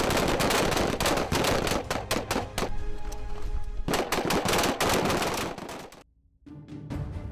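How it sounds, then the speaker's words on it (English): M240 medium machine gun firing long rapid bursts of sharp, loud shots, with a short pause, a final burst, then a sudden silence and a last few shots. "The M240 machine gun is the current medium machine gun for the U.S. Army and U.S. Marine Corps."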